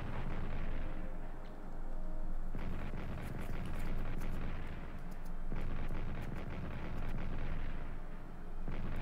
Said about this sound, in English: Usual artillery attack on Gaza. Also on Aachen.